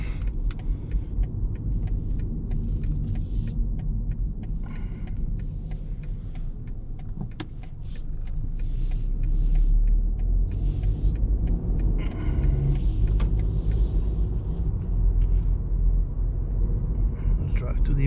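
A 2020 BMW 118i travels a ring road, giving a steady low engine and road rumble from inside the cabin that swells partway through as the car picks up speed, with someone talking over it.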